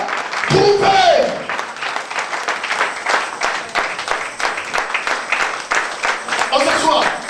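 A church congregation applauds and cheers in a steady, loud wash of many hands clapping, with a voice calling out over the crowd near the start.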